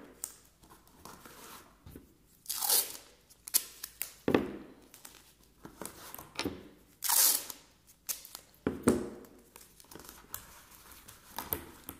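Painter's tape tears off the roll and is pressed onto a paper mask in quick bursts of crinkling and ripping, several sharp close tears separated by quieter handling rustles, no talk.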